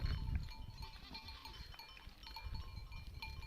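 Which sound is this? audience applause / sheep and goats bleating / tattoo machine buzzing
sheep and goats bleating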